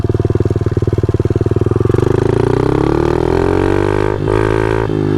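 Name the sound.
motorcycle engine bogging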